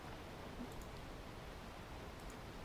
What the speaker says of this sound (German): Ja, ich höre das Wasser rauschen.